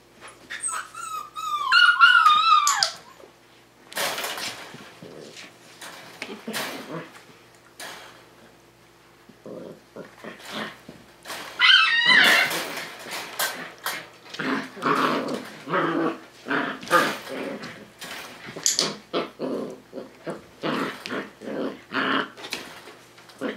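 Tamaskan puppies playing, whimpering in high cries, letting out short howls and growling, with scuffling and yips in irregular bursts, close and fairly loud.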